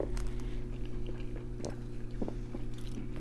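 Crunchy fast food, likely onion rings, bitten and chewed close to the mic at a mukbang, with a few crisp crunches over a steady low hum and no talking.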